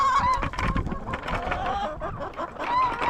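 Farm chickens feeding off the floor cluck and murmur in a busy, close flock, with short squawks rising over the steady clucking.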